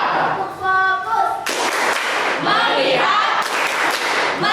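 A crowd performs a rhythmic unison clapping pattern, the 'focus clap' of a group clap routine, with bursts of loud, close claps alternating with people chanting in between.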